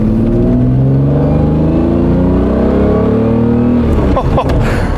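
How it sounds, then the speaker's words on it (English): A Lamborghini Diablo's engine rises steadily in pitch as the 1990s supercar accelerates, a loud, continuous mid-range roar heard from close by inside the car, with a brief rumble of shifting near the end. "you feel that engine when you accelerate"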